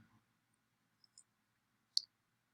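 Two or three faint, sharp computer mouse clicks spaced apart in a quiet room, the last one a bit louder, with no talking.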